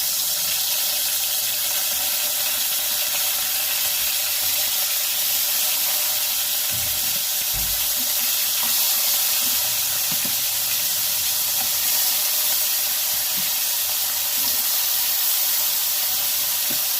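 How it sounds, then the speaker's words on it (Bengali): Pieces of bhola fish fry in hot oil in a heated kadai, making a constant, close, hissing sizzle with a few soft low bumps and no voices. "এদিকে মাছটা ভাজা হচ্ছে"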